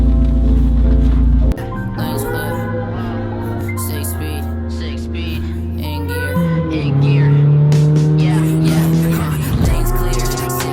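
A lowered car pulls away with a loud engine roar, tires squealing and skidding as it revs hard, the engine pitch climbing and shifting over about ten seconds.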